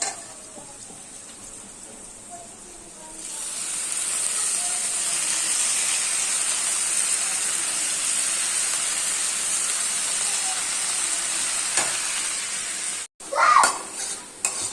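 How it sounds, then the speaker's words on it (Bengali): Leafy greens frying in fish oil, a steady bright hiss that swells after a few seconds and holds evenly, then breaks off near the end with a brief clatter of a pan or utensil. "এই দেখো বন্ধুরা, মাছের তেল দিয়ে শাকটা ভাজা হয়ে গেছে।"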